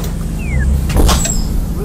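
A TTC 2008 Orion VII NG hybrid bus running on an express route: steady low engine and road rumble from inside, with a brief rising whoosh midway and a faint squeal.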